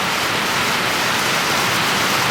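Steady hiss of rain falling outdoors on a duck and duckling enclosure, a dense even broadband wash that holds constant throughout with no voices or other sounds over it.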